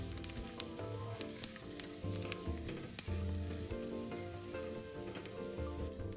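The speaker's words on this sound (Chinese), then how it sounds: "小火放入姜片爆香" Ginger slices sizzle in shallow oil over low heat in a wok for Szechuan spicy chicken, a steady close frying hiss broken by sharp clicks of a utensil, with a tonal hum underneath.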